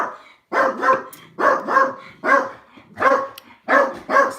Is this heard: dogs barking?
yes